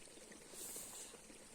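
Water from a micro hydro setup overflowing and spilling, a steady faint splashing and trickling wash with no clear breaks, heard alone at low level.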